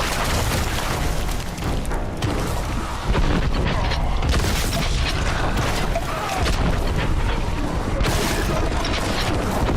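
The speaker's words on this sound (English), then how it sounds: "Oh, cool. Grenades." Repeated grenade explosions and booming combat effects in a Warhammer video game, dense and loud throughout with overlapping blasts and clatter, faint voice underneath.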